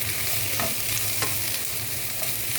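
Bitter gourd sautéing with green chilli and curry leaves, a steady close sizzle with a few soft scrapes of stirring, alone with no voices.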